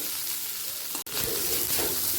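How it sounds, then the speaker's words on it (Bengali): Potatoes fry in hot oil with a constant, close sizzle, broken by one very short dropout partway through, then hissing on at the same level. "আলুটা হালকা লাল করে ভাজা হয়ে গেছে"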